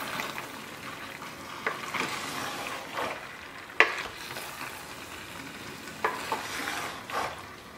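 Pork pasta being lightly stirred into leftover gravy on a low flame, producing soft repeated scraping strokes over a steady sizzle, close and moderate in level, with one sharp clink partway through and no speech.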